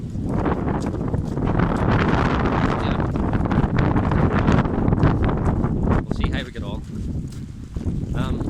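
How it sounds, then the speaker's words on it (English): Wind gusts on a forest hike near a reservoir in Northern Ireland, loud buffeting rumble against the microphone that barely lets up, easing slightly toward the end, with a voice talking over it. "quite blowy, but not as blowy as I thought it would be"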